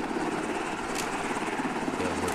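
Helicopter in the video game Arma 2 flying close by, a steady loud rotor and engine drone filling the whole stretch with a low beating thrum and no speech.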